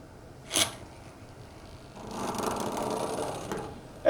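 Pull-back toy's internal gear train spinning its wheel, a short click then a faint steady whirring buzz lasting about a second and a half before stopping.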